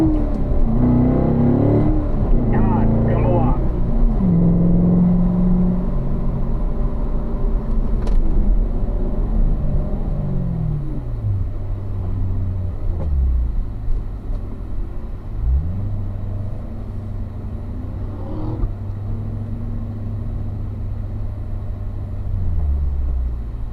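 A car engine on a driving course at Spring Mountain during heel-toe downshifting, a loud, close rumble with rising and falling revs as gears change, sustained throughout with no talk.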